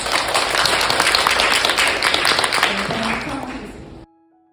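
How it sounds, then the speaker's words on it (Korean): Sustained applause from an audience, dense clapping at steady loudness for about four seconds before cutting off abruptly. "다 같이 격려의 박수 한번 쳐주시면 감사하겠습니다."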